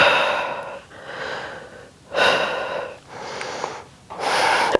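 Strong, forceful exhales from a person during a Pilates reformer core circuit come as four loud, breathy pushes at a steady pace, close to the microphone, with quieter pauses between them.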